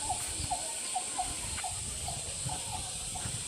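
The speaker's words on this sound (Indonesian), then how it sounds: "Burung pehtuk tuh." A pehtuk bird in an Aceh forest calls in short, repeated chirping notes at a fairly regular quick rhythm, moderately distant, over a constant high insect-like hiss.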